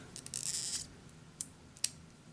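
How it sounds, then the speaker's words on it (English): A quick rasp of scissors snipping paper, followed by a couple of faint isolated clicks in an otherwise quiet room. "Let's just take my scissors"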